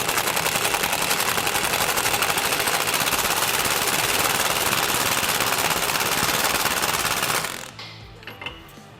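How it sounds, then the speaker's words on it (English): A socket tool tightens the ball joint nut on a Honda Pioneer 1000-5 front A-arm, making a loud, continuous mechanical rattle that runs for several seconds and then stops abruptly, followed by a few light clicks. "You can take a socket, tighten it up."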